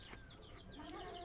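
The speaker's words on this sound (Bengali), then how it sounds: "মুরগি যে ডিম পাড়তেছে।" A hen clucks softly while laying an egg among other chickens; brief, faint low clucks sit over a steady background hum, with no talking.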